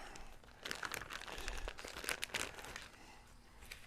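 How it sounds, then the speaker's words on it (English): Boar sausages pulled from a plastic wrapper, close crinkling and crackling of plastic with rustling bursts, fairly quiet and alone. "We'll get this out the wrapper."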